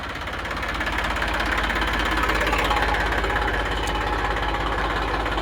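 An Eicher 380 tractor engine idles close by, a steady low rumble with a fine, even knock that holds level throughout, with no voices.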